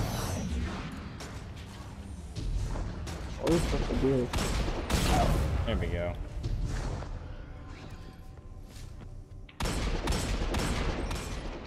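Dense gunfire and blasts fill a Destiny 2 firefight, with sustained rattling shots and heavy bursts near the start and again late, loud and continuous; someone speaks briefly over the din.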